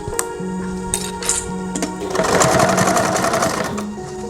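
A sewing machine top stitches an eighth of an inch from a fabric edge, running in steady bursts with short stops and a louder, denser stretch of continuous stitching near the middle, close and clear with no talk.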